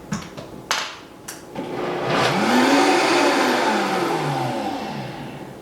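A blender whirs through raw vegan mascarpone cheese. A few sharp knocks come first, then the motor rises into a loud, steady whine that slowly falls in pitch as the thick mixture churns. No one speaks.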